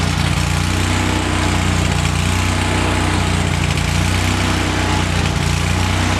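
A Lincoln Ranger 10,000 welder generator engine runs at a steady, loud, droning idle close by, a continuous low rumble with no pauses and no speech.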